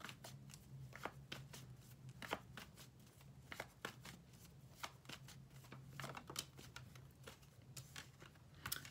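Tarot cards being shuffled close up in a quiet room, a long run of crisp riffling flutters and slaps repeating at an even rhythm.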